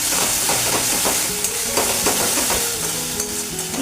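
Eggs and whole garlic cloves fry in a pan with a steady loud sizzle while a spatula stirs and scrapes through them repeatedly, close up and without any voice.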